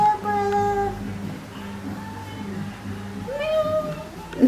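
A cat meows a few times, with soft mewing sounds and human murmuring mixed in nearby.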